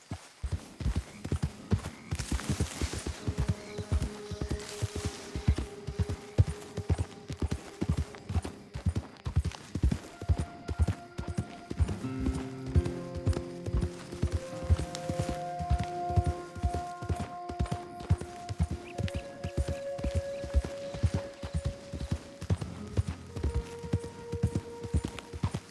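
A horse clip-clops at a steady trot in the video game Red Dead Redemption 2 on PS5, with close rhythmic hoofbeats throughout and sustained musical tones underneath.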